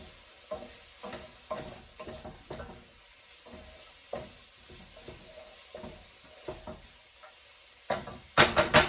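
Garlic sizzling in a pan during potato leek soup cooking, with repeated stirring scrapes and knocks over a steady low fry, ending in a louder burst of sizzle.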